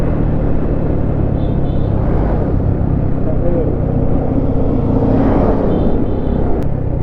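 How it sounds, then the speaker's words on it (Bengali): A car engine labours up a steep hill road in the Bandarban hills, producing a loud, steady, close-up rumble that drones without a break. "গাড়ির গঞ্জন দেখে তো ঠিকই বুঝতেছেন যে গাড়িটা কোনো পাহাড়ের দিকে উঠতেছে, নাহলে ইঞ্জিন এত সাউন্ড করবে"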